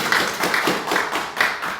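Church congregation clapping in a steady, even rhythm, with about four firm beats heard loud and close, and no talking over it.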